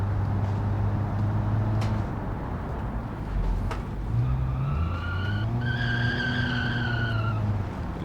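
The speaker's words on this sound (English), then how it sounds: "A little bit of wheel spin due to the open differential" A rally car with an open differential in the Automation racing game spins its wheels, a revving engine rising in pitch under tyre squeal and skidding, loud and close.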